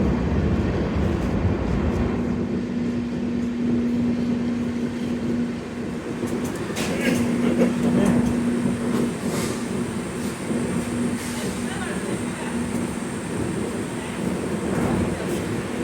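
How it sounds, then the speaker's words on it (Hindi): The Sairang Rajdhani Express pulls into Hailakandi station with a continuous loud rumble of rolling wheels, a steady low tone and occasional clanks throughout. "1:18 पर हमारी ट्रेन पहुंची है यहाँ हैलाकंडी में।"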